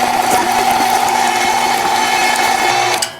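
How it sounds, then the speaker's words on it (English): An electric meat grinder with a coarse die hums steadily and loudly at close range, grinding chicken continuously for a few seconds before winding down at the end. "Time to send all this meat through the old grinder."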